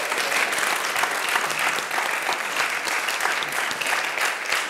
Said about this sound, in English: A round of applause once more for the speakers.